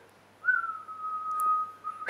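A person whistles a theme song, a single clear, close tone held for about a second and a half with a slight dip in pitch, in a quiet room.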